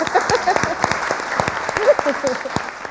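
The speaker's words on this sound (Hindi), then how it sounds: "तो तालियां हो जाएं भाई दोनों फैसलाबादियों के लिए" Studio audience at a TV talk show clapping in a brisk, uneven patter of individual claps, close and lively, with a voice briefly heard underneath.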